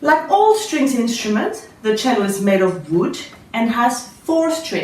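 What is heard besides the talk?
None of the usual background noises is heard.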